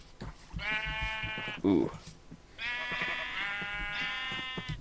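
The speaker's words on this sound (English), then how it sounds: "Those are some very loud sheep." Loud sheep bleat repeatedly in the Create mod for Minecraft, long drawn-out cries close by, with a short spoken exclamation between them.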